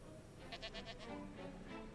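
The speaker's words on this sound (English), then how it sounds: "That's a two-headed goat." A two-headed cartoon goat gives a quiet, wavering bleat in a few rapid pulses, heard alone with no talking.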